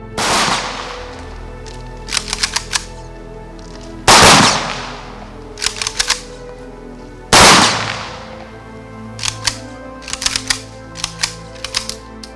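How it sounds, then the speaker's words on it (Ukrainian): Three loud rifle volleys of a military funeral salute in Kryvyi Rih, Ukraine, crack out a few seconds apart, each followed by quick bursts of metallic clicking from the weapons being worked. "традиційно пролунав останній військовий салют"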